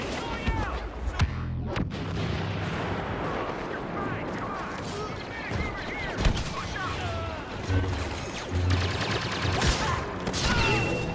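Blaster gunfire in the video game Star Wars Battlefront 2 crackles steadily throughout, with bursts of shots and heavy booms in a busy battle, with voice chatter mixed in.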